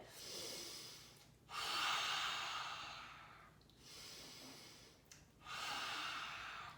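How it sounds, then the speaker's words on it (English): Forceful yoga dragon-breath exhales during a children's yoga session, three long breathy whooshes each a second or two long, close and clear with short quiet gaps between them. "as we let out our dragon breath, we're going to look like this"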